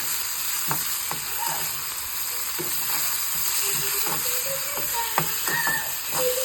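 Tempering for Andhra-style tomato dal crackles in hot oil, a bright hissing sizzle with scattered pops and spoon clicks as it is stirred, close and steady throughout.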